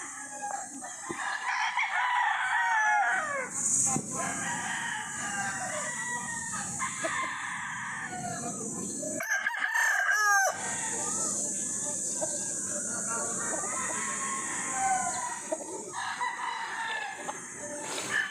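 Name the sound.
chickens and roosters crowing and clucking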